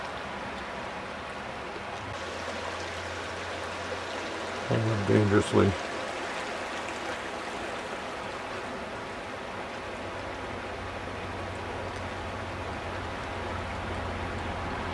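The Dolores River rushes steadily past the bank near Rico, Colorado, a close, continuous broadband water roar with a brief burst of wind or handling noise and a few spoken words partway through.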